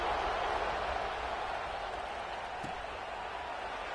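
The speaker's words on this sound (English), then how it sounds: "this crowd is buzzing after that last score" Crowd noise fills a football stadium in a video game after a touchdown, a steady broadband roar of distant fans holding at an even level for several seconds, with no commentary over it.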